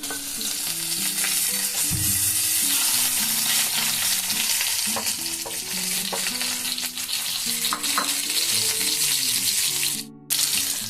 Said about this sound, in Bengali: মাছগুলো আমি খুব সুন্দর করে আমি ভেজে নিয়েছি